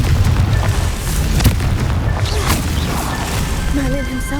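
A Confringo blasting-spell explosion in Hogwarts Legacy: heavy booming impacts and crashing rumble, loud and close, with a voice calling out the spell over the blasts.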